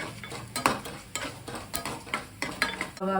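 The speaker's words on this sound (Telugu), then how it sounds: "ఆవాలు జీలకర్ర కూడా వేసేసుకోవాలి వేసుకొని దీన్ని బాగా వేయించుకోవాలన్నమాట" Mustard seeds and cumin fry in hot oil in a pan for curd rice, a soft sizzle broken by quick popping seeds and a spoon clinking against the metal.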